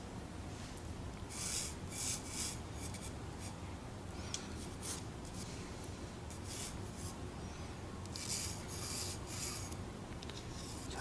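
A 4B pencil shading on paper for a red brick drawing, a soft continuous scratchy rubbing with faint stroke-by-stroke bursts, close and quiet against steady background hiss.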